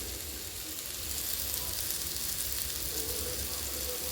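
Banana slices fry in butter in a pan, giving a soft, even sizzling hiss that holds steady close by with no talk over it.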